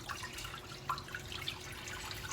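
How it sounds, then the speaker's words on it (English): Water running from a tap into a crock pot for corned beef and cabbage, a steady close trickle with small splashes and drips throughout, heard alone. "I'm gonna put some water in here"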